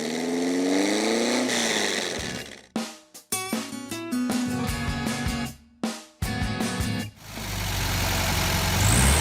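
A Volkswagen Beetle (Fusca) engine revs up and runs loudly and close, its note climbing at first, then cut by a few abrupt gaps before the steady roar returns.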